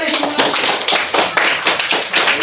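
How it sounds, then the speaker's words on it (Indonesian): Group of students clapping together in a marketing class, rhythmic bursts of close, loud hand claps repeating in quick succession, with voices faintly mixed in. "Tepuk tangan semua."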